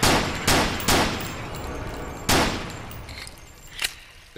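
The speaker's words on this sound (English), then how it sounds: "Shoot the barrel, stand back, clearly." Gunfire in the video game DeadLab aimed at a barrel: several loud, sharp shots ring out close by, spaced irregularly, each with a short decaying tail, and a fainter burst follows near the end.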